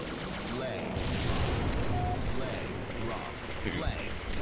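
Rapid, overlapping gunfire from a Halo 3 multiplayer capture-the-flag match on Entrenched crackles steadily at moderate volume, with players talking over the shooting.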